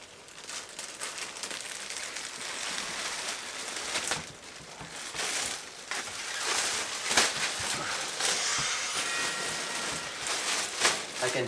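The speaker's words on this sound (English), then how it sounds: "I can hear it sucking the air a little bit as it was expanding" Foam mattress topper unrolling and expanding after its wrapping is cut, giving a soft, continuous crinkling hiss of air being drawn in, with scattered rustles and plastic crackles close by.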